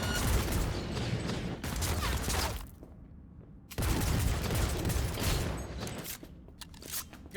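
Heavy gunfire in the Cyberpunk 2077 game on very hard difficulty: dense bursts of automatic fire in two long volleys separated by a short lull, loud and close, with no talk.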